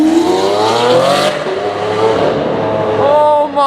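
Straight-piped Lamborghini Murcielago LP640 engine revving hard up close, a loud, rising howl with a sharp drop in pitch, then another climbing rev near the end; cheering voices briefly over it.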